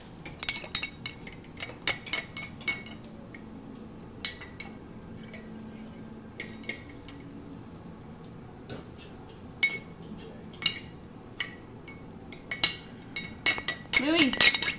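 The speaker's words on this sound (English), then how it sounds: "Louie, are you stirring your egg?" An Easter egg being stirred with a spoon in a cup of dye: scattered light clinks and taps against the cup, close and intermittent, growing busier toward the end, with brief voices of a family in between.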